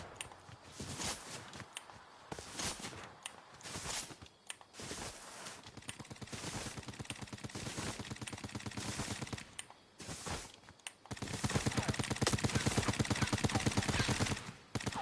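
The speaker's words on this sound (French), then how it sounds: "ça tire derrière." Gunfire rings out from behind the player in a video game, rapid automatic bursts repeating through the clip, with footsteps mixed in and the shooting growing louder and denser toward the end.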